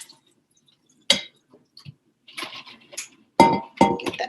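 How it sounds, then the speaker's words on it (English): Roasted chestnuts tumble into a colander in a kitchen, scattered clinks and knocks at first, then denser rattling bursts as the bulk of them pours in, fairly close. "I'm going to dump these into a colander."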